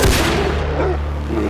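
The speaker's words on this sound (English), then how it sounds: "Gunshots echo through the dense forests as hunters hunt down a giant invasive species" Gunshots from a hunt in dense Florida forest, a heavy opening boom followed by a long ringing echo that slowly fades.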